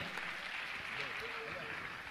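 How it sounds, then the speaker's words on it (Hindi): An audience claps steadily in a hall at a Jain religious gathering, honouring a family of hosts; the applause is dense and continuous throughout at moderate loudness. "मैं चाहूंगा इनके सम्मान में आप जोरदार ताली बजाकर"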